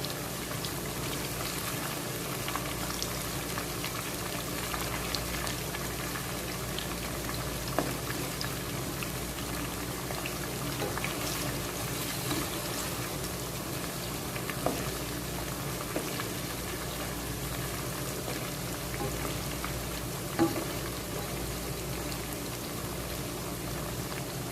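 Chicken biryani simmering on a low flame, a steady soft bubbling and gentle crackle that runs evenly throughout at a quiet, close level, with no talking.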